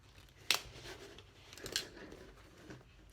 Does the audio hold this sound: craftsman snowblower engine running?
no